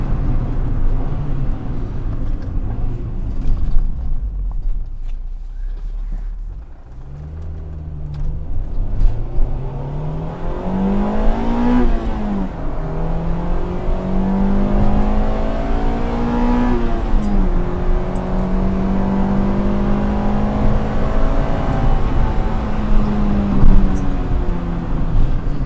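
A car's engine roars at speed in fourth gear near 70 mph, then drops as the driver brakes late and blips the throttle for a rev-matched heel-and-toe downshift, rising and settling again in a loud, close interior recording.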